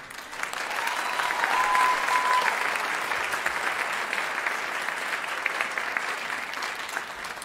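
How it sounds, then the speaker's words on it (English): Steady applause from an audience at an international food and culture fair, honoring the performers; dense continuous clapping that holds level throughout with no pauses. "Can we please give a big round of applause to everyone who has performed?"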